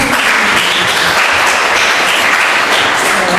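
A Sunday worship congregation claps in welcome for church visitors, a loud, dense burst of applause that holds steady throughout.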